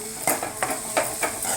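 A spoon stirring and mixing a green peas dish in a pan, with four or five rhythmic scraping strokes against the metal over a faint sizzle, close and fairly loud, with no talk.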